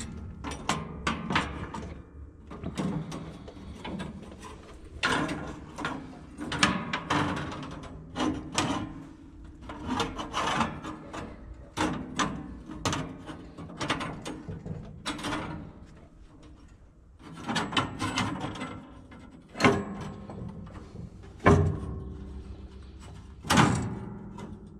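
A sawmill bandsaw blade with missing teeth cuts through lumber, giving a rough, uneven run of repeated knocking and rasping bursts throughout, loud and near, with no talking.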